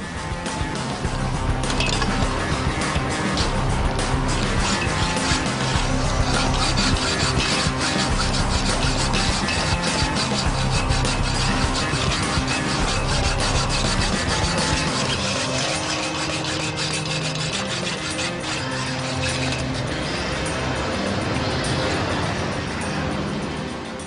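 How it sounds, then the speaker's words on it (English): Hacksaw cutting through a bike lock at a busy tube station at rush hour, a continuous rasping scrape of quick strokes under dense crowd and station noise throughout. "Method of attack, hacksaw."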